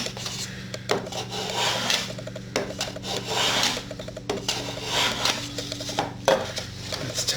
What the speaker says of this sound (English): let's put a little chamfer here on the end so we don't blow out the grain there